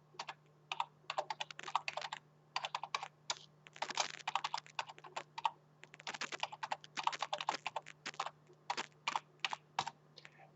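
An email address is typed on a computer keyboard in quick irregular bursts of sharp key clicks with short pauses, over a low steady electrical hum.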